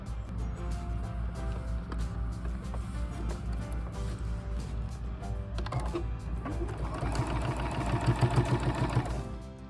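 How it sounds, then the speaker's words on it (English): A sewing machine top stitches around a quilted ice cream cozy, a steady close mechanical hum running throughout and growing slightly louder and busier near the end. "our last seam is just going to be a little top stitch around it to close up your turning hole"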